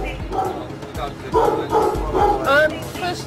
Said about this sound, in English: The dangerous dog she has a warrant for is getting agitated.